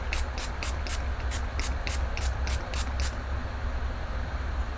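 Makeup setting spray misted in a quick run of about ten short, sharp hisses over roughly three seconds, close and fairly loud over a steady low background hum, then the bursts stop.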